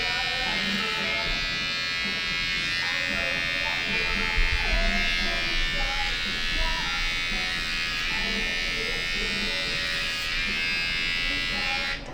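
An electric hair trimmer buzzes continuously while cutting a man's hair during a haircut, a close steady whine that stays under intermittent talking.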